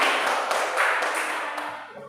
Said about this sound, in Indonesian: Tepuk tangan buat Bu Yayu ya.